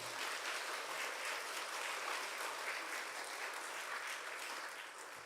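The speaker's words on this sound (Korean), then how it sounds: "우리 큰 박수로 격려와 또 환영하면 좋겠습니다." A church congregation applauds to welcome a visiting missionary, continuous clapping heard from a distance, fairly soft but sustained the whole time.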